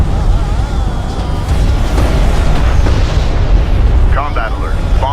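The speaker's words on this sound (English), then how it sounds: "Enemy airstrike inbound." Enemy airstrike explosions in the sci-fi strategy game Homeworld: Deserts of Kharak rumble as loud, sustained low booms under a steady battle din, with synthetic radio voices talking over them.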